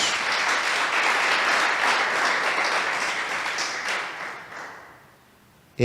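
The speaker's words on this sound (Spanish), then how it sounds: "Regálale un aplauso al Señor" A congregation applauding in church, a strong, continuous round of clapping from many hands that stays even for several seconds, then tapers off and dies away near the end.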